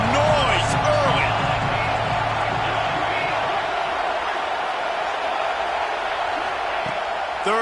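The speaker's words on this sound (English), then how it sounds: "This crowd bringing the energy and noise early." A large stadium crowd roars and murmurs continuously, with a commentator talking over the noise.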